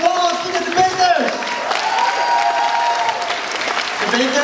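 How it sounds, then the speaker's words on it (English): An audience at a university debate event bursts into sustained applause for the debaters, a dense, loud wash of clapping that continues steadily throughout. "let's give a big round of applause to the debaters"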